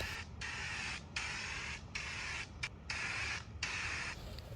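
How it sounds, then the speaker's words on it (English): Several bursts of hissing aerosol primer spray onto a vintage wooden bench, each lasting about a second with short pauses between, steady and close. "I love using the spray cans because it goes on super smooth"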